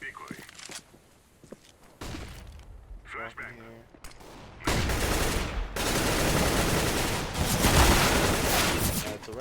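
Gunfire sprays from a tactical shooter video game arrive in rapid bursts, louder in the second half, with footsteps and soft thuds earlier and a commentator talking over parts.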